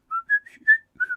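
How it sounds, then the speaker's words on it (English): A phone powering on plays a series of short, bright electronic whistle tones, rising and falling in a quick chirpy melody, clear and close with no other sound. "That's the phone whistling as it turns itself on."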